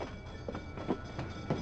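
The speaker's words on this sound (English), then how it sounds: "the bell is just the train telling you that you're almost there" A train rolls along in a video game, a steady rumbling rattle with rhythmic clacks at regular intervals; no distinct bell rings stand out.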